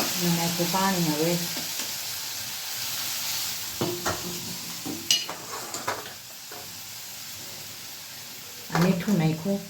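Water poured into a hot tempering of cumin, mustard seed, fenugreek and asafoetida for a Gujarati bottle gourd and potato curry hisses and sizzles steadily, with spoon scrapes and clinks and a voice talking over parts of it.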